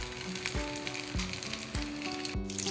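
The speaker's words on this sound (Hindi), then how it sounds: "ये ऑयल अच्छे से गर्म हो गया, तो मैं इसमें कोफ्ते डालूंगी।" Beef koftas made from raw mince fry in hot oil with a steady, close sizzle. Utensil clinks and a few brief tonal knocks recur at regular intervals, and no one speaks.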